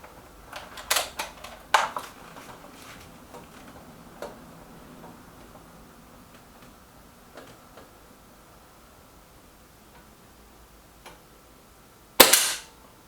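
A Reximex Regime air rifle fired at a long-range target, a single sharp crack at the end following scattered faint ticks and clicks of handling, fairly close in a quiet outdoor setting without voices.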